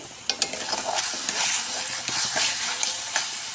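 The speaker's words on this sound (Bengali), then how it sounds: "পেঁয়াজ বাটাটা আমি তেলের মধ্যে দিয়ে খুব ভালো করে পেঁয়াজটাকে ভেজে নেব" Onion paste frying in hot oil for mustard hilsa, a bright continuous sizzle close to the pan with sharp spoon scrapes and stirring knocks scattered throughout.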